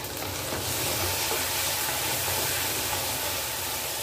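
Raw mango pieces hit a hot pan of onion and tomato for kuzhambu, giving a loud, steady sizzle and frying hiss throughout with no voices.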